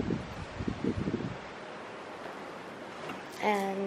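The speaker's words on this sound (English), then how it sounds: "It's a bit windy." Wind gusting at a resort viewpoint, buffeting the microphone in low rumbling bursts at first, then settling into a steady soft rush, with a brief voice-like sound near the end.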